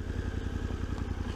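2023 Suzuki V-Strom 800 DE motorcycle engine while riding, heard as a close, steady low throbbing drone with even pulsing throughout.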